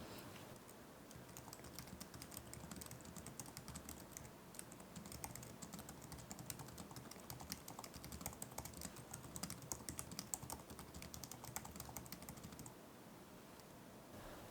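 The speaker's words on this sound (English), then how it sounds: "The Magic Keyboard itself is pretty reputable, so I went ahead and did a typing test myself." Rapid, continuous typing on the Magic Keyboard of an M2 MacBook Air in Midnight, with soft, quick key taps close up, alone and fairly quiet, pausing briefly near the end.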